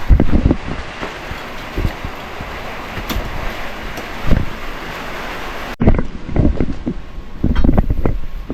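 Loud, close rushing wind with a steady hiss of sudden heavy rain, gusting unevenly, with a brief break partway through.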